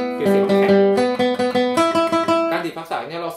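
Classical guitar melody picked with firm rest strokes (apoyando) for a hard, bright tone, a slow sequence of clearly separated plucked notes ringing close and loud, with no talking.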